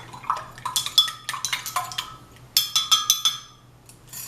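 Cinnamon orange cranberry cake batter being mixed for the holidays: quick clinking and scraping of a utensil against a bowl in short rhythmic bursts, with a pause before another run of clinks.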